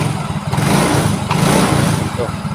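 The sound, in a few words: motorcycle engine revving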